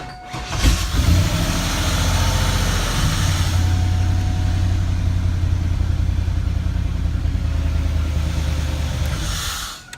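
A 1997 Chevrolet Camaro Z28 with an LT1 V8 cranks briefly, fires up and settles into a loud, steady idle close by that runs on for several seconds before cutting off.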